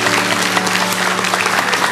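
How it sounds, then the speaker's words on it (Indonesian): A church congregation applauding during a sermon, a loud, dense and continuous burst of clapping from a large crowd, with a faint low hum underneath. "kasih tepuk tangan untuk Tuhan"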